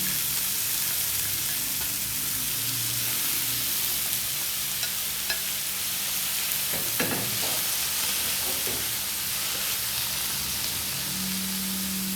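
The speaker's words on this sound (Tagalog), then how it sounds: "Gigisa natin mabuti hanggang sa lumata yung sibuyas sa kamatis." Onion and tomato sautéing in a pan for a Filipino chicken and peas stew, a loud, continuous hiss of frying with a few scraping stirs around the middle.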